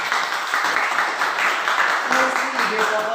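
A classroom of students clapping hands together in a sustained, moderately loud patter, with a voice speaking briefly over the applause near the end.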